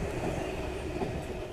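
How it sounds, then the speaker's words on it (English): A Sydney Waratah A-set electric train, A13, departs St Peters station with a loud, steady rumble of motors and wheels on rail, heard close up. "Waratah A13 departing."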